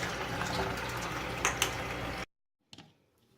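Water rushes steadily into a film developing tank to wash a 35mm film reel, a close, continuous hiss with a couple of splashy bumps, then it cuts off abruptly and a faint clunk follows.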